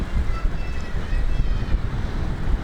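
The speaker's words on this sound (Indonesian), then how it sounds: "Ya ini banget, anginnya lumayan kencang." Strong wind buffets the microphone at Kuta Beach in Bali at night, a loud continuous low rumble with surf faintly underneath and no clear talking.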